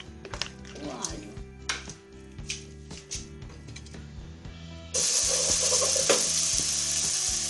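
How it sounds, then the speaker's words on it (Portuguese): Garlic frying in oil for rice, a soft crackle with clinks and scraping of stirring at first, then a sudden loud steady sizzle as more goes into the pan, close by. "Vou colocar um pouco de óleo para fritar o alho."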